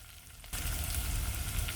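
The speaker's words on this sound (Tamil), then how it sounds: "ரெண்டு பச்சை மிளகாய் வெங்காயம் சேர்த்து நல்லா வதக்கலாம்" Onion and green chilies hit a hot pan with fenugreek and fennel seeds for a Chettinad raw banana curry, bursting into a loud, dense, continuous sizzle that stays close and steady, with no voices.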